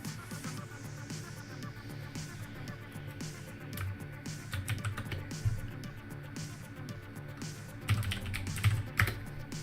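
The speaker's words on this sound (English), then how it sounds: "Now since I typed it out here in the command line" Keys clack at an Atari command line in quick irregular bursts, fairly quiet and close, with brief pauses and a denser flurry near the end.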